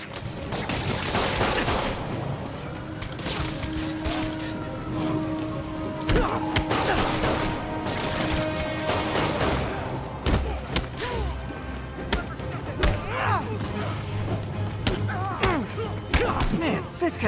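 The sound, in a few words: gunfire from the video game Spider-Man PS4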